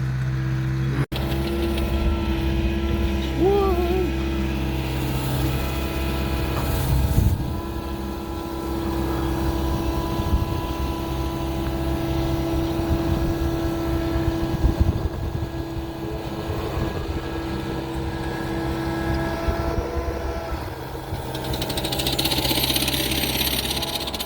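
A hay bale loading pusher machine runs in a steady mechanical drone with an idling engine-like hum, continuous and fairly close for the full stretch, with brief clunks and no talk.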